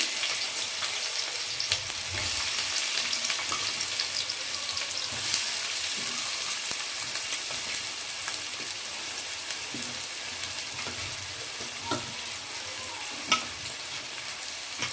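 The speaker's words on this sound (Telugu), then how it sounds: "ఇలా ఆయిల్ వేడైన తర్వాత ముందుగా కట్ చేసి పెట్టుకున్న ఆనియన్స్ వేస్తున్నానండి" Chopped onions sizzle in hot oil for an egg curry, a steady close frying hiss dotted with sporadic pops and crackles throughout.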